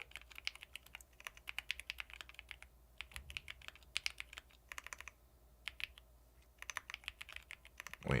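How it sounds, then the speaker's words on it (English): Fast typing on a computer keyboard during a typing test: close, crisp key clicks in quick irregular bursts with brief pauses, and no voices. "Wait, I'm typing too slow right now. Let me speed it up."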